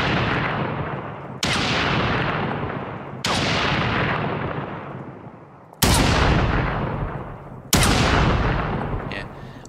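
Sniper rifle gunfire in a video game under development, five loud single shots spaced a couple of seconds apart, each with a long decaying boom and no talking.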